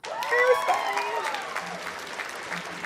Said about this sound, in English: I do have some hands to clap for that beautiful hairstyle